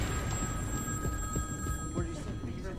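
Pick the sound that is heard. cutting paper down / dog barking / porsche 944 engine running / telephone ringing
telephone ringing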